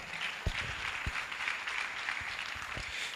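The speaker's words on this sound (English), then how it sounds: "Can we clap better?" An audience at an Abuja edtech startup conference applauds steadily, a dense, even wash of many hands clapping that holds for the whole stretch with a few sharper claps near the front.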